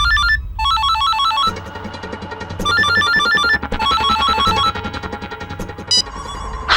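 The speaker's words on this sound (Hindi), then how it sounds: "फोन हमने निर्मला जी को लगाया" A loud electronic ringtone plays a bright repeating melody in bursts, with a steady electronic pulse underneath, continuing for several seconds without voices.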